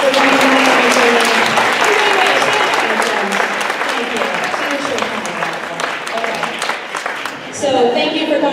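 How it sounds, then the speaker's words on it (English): Applause for teachers at a school board meeting, a loud burst of clapping from a room that thins out, with voices talking over the tail. "Can we just give them a round of applause for coming back and returning?"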